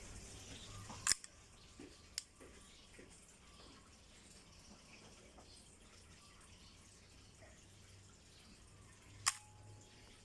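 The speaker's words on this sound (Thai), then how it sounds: "ต่อไปเป็นชัตเตอร์ แปดวินะครับ" A Nikon FE camera after repair fires its shutter on an 8-second exposure, giving a sharp mechanical click, a quieter intermediate tick, and a second click about eight seconds later, heard faint and close in a quiet room.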